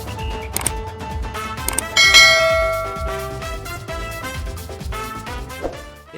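A bright, ringing notification bell chime sounds repeatedly over a steady musical backing, with a louder, sustained ring near the middle.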